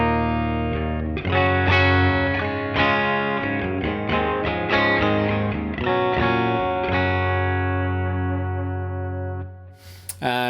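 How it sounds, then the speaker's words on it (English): Electric guitar through a Revv G3 distortion pedal on a clean amp channel, heard as a steady run of chords and single notes with sustained ringing tones, then a long held chord fading out near the end. "this is the sound of the generator on a clean"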